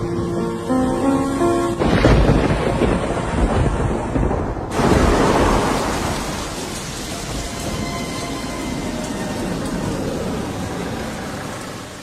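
Heavy rain pours steadily while thunder rumbles and cracks loudly and close by, with a sharp burst partway through, then the downpour continues unbroken.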